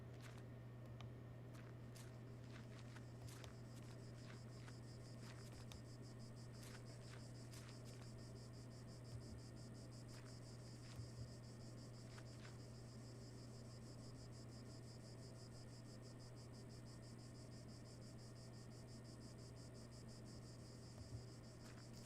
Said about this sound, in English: There's cicadas.